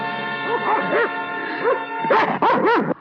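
Several dogs bark and yip in bursts, a few spaced barks followed by a quicker cluster of three, with a steady hum beneath.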